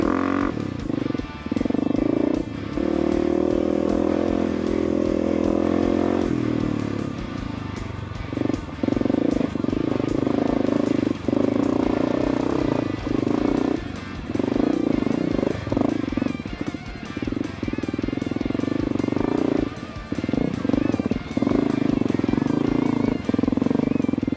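A Honda XR250 five-speed 250 cc dual sport motorcycle rides a desert trail, its engine droning steadily with gear changes and brief dips, heard close along with wind buffeting.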